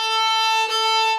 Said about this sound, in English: You get that screechy owl kind of sound.